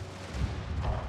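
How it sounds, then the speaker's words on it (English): Cannon fire in a strategy video game, a rumbling barrage of low booms rolling together in a brief dense burst, moderately loud with no voices. "Ooh, that's a lot of cannon shot."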